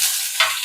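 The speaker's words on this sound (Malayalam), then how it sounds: "കടുക് നന്നായിട്ട് പൊട്ടിയിട്ടുണ്ട് കേട്ടോ. ചെറിയുള്ളിയും കറിവേപ്പില ഒരുമിച്ചിടാം." Mustard seeds, shallots and curry leaves sizzling in hot oil in a pan, a bright continuous frying hiss with a brief flare as they are stirred, close and loud with no talking.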